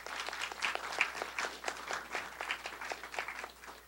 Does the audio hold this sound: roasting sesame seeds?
no